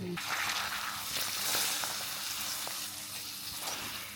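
Two or three pappadams frying together in hot coconut oil give a steady, close, crackling sizzle that runs unbroken for the whole stretch, with no one talking over it.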